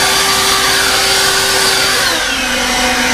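An EGO cordless leaf blower on a 2.5 amp-hour battery running on high, a loud, steady whooshing motor whine close by, with its pitch dipping slightly partway through.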